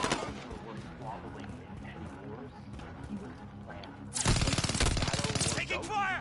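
Automatic gunfire in a Modern Warfare video game battle: steady combat noise, then a loud, dense burst of rapid shots from about the midpoint onward, with game voices mixed in.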